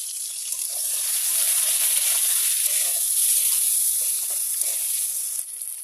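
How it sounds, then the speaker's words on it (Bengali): Crabs fry in hot oil with ginger, salt and turmeric, giving off a steady, loud, close sizzle and hiss that swells and eases slightly, with no voices. "তারপরে লবণ আর হলুদ দিয়ে এটাকে আমি ভালো করে ভেজে নেব"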